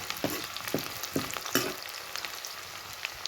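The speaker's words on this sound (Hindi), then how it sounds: "सिंपल प्याज का तड़का डलेगा।" Onion tadka for a simple tempering sputters in hot oil, with several sharp crackling bursts early on over a constant soft sizzle, close up and without voices.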